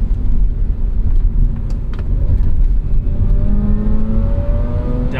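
A sports car's engine drones loudly from inside the cabin with a manual gearbox, then pitch climbs in rising revs as the driver double-clutches a downshift to second, steady and close throughout.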